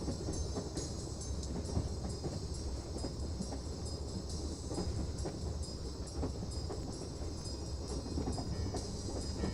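A train runs steadily on its rails throughout, a continuous rumbling clatter with a rhythmic rail beat and a high metallic hiss, moderately close and with no voices.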